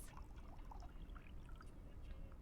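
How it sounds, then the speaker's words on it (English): Water poured into a vase in Cyberpunk 2077, a soft continuous trickling stream with small splashy glints, quiet and close, running unbroken for a couple of seconds. "Who puts water in a vase like that?"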